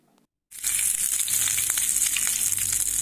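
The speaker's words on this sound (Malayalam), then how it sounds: "ചൂടായ എണ്ണയിലേക്ക് കുറച്ച് കറിവേപ്പില ഞാൻ ഇട്ട് കൊടുത്തിട്ടുണ്ട്." Curry leaves drop into hot oil before fish is fried and burst into a loud, sudden sizzle after a brief silence, crackling and spitting steadily up close with no talk.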